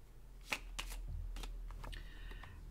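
Divination cards are shuffled close by in short, quiet riffling bursts of paper flicks lasting a few seconds.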